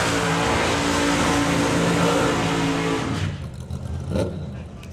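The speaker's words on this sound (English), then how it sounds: "With the now supercharged Firebird." Supercharged Pontiac Firebird drag car engine at a drag racing meet, roaring loud and steady for about three seconds before cutting off abruptly, followed by quieter, uneven idle and faint crowd noise.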